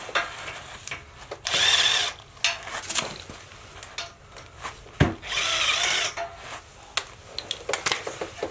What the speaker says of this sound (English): we'll go ahead and get those two bolts out right here that are connected to the hub, or connected to the head